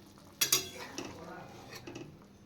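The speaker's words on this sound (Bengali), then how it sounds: "সর্ষে কাঁচা পেস্টটা দিয়ে দিলাম" Raw mustard paste goes into a simmering curry of parshe fish, with two sharp clinks of a utensil against the pan, then softer scraping stirs and a quiet background bubble, close by.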